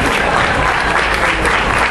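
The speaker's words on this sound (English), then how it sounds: "One more round of applause for Daniel." Audience applause after a costume contest entry at a fan convention, a dense steady wash of clapping from a crowd, loud and sustained with no pauses.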